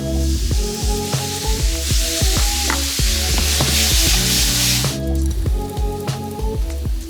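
Ginger sizzling in a hot pan, a loud dense spitting hiss with crackling pops and clinks throughout, close up and without talk.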